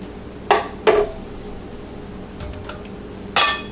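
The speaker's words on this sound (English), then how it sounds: "we're going to lift it into our canner" A glass canning jar knocks and clinks against metal inside a home canner with two sharp clanks close together. Softer shuffling follows, then a final bright clink.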